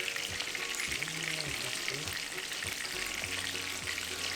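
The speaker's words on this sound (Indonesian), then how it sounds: "Oke, sambil goreng." Food sizzles and crackles steadily in a hot pan while eggs and corned beef are cooked, a dense continuous frying hiss with faint clinks and low background voices.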